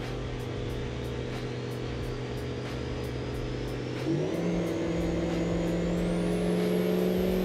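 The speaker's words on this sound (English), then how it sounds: "Hearing that turbo scream is so good." A truck in BeamNG lets out a turbo scream: a steady engine drone, then the revs climb and a thin, high whistle rises and holds, loud and close with no voices.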